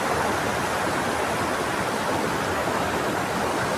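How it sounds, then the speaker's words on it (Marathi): A river flowing beside a village near a waterfall in Dapoli, Konkan, with a steady, dense wash of rushing water, loud and close, unbroken throughout with no voices. "ही अशी नदी वाहत असते."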